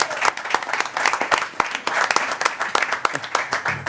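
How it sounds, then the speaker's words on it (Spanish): An audience at a book colloquium claps loudly for Roberto, dense sharp claps in an uneven rhythm filling the whole stretch. "de verdad que me gustaría que le den un fuerte aplauso a Roberto."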